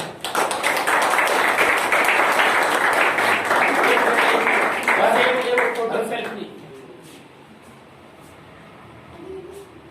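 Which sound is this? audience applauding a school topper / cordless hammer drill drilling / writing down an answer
audience applauding a school topper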